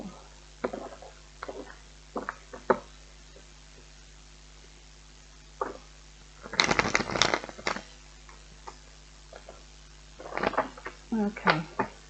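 Tarot cards shuffled in a few bursts of quick riffling and flicking, with a louder flurry midway and another near the end, close and crisp.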